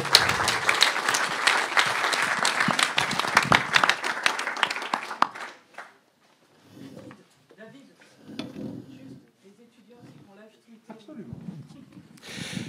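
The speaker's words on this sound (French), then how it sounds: "je vais vous demander de les, les applaudir comme on disait à la télévision" An audience at an academic conference in Tours, France applauds loudly for several seconds, then the clapping dies away into quiet, with a voice speaking afterward.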